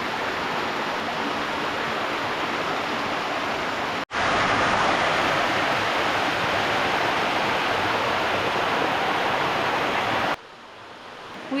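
Loud, constant roar of rushing water close by at a waterfall in Karijini National Park, Australia, briefly cut off once and dropping to a softer rush near the end.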